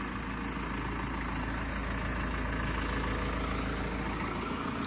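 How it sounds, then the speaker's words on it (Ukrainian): A tractor engine runs steadily at a low, constant drone while compacting the floor of a grain warehouse, loud and close with no pauses. "зараз будемо закатувати пол трактором"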